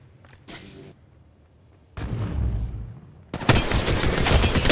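Gunfire in the Apex Legends Mobile game: short bursts, then a longer loud rapid volley that keeps going to the end, with brief quiet gaps between bursts and no speech.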